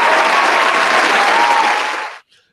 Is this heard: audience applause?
yes